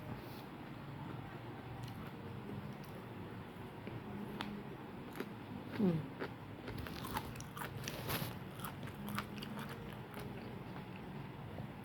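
Someone bites and chews volcano durian fruit up close, with soft crunching and mouth sounds repeating through the moments, plus a louder bite near the middle.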